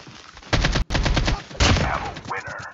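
AK-47 automatic fire in Call of Duty: Mobile, loud rapid bursts of shots running almost continuously with a brief break, and a game sound effect layered in near the end.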